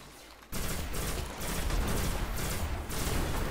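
Rapid bursts of gunfire from a weapon in the video game Destiny, loud and close, arriving in several repeated volleys with brief gaps between them over a dense, sustained background of combat noise.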